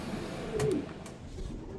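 A racing pigeon gives a soft, low coo once or twice in a loft, faint against steady background noise, with no talking.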